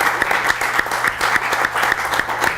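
Steady applause at a county commissioners meeting, many hands clapping at once in a dense, even patter that holds for a few seconds with no voices.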